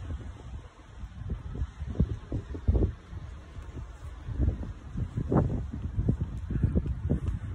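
Strong gale-force wind buffeting outdoors, heard as low rumbling gusts and microphone blasts that swell and fade irregularly, close and moderately loud, with no clear talk.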